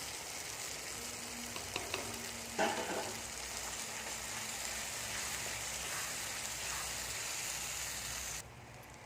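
Curry leaf thokku fries steadily in a pan while dry spice powder is stirred in, a soft continuous sizzle with occasional scraping stir strokes and one sharper clatter, fairly quiet and with no talking.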